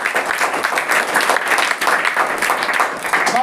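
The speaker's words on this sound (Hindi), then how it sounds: "एक बार और जोरदार ताली।" An audience of parents and children at a school welcome event bursts into loud, dense applause that carries steadily through the moment.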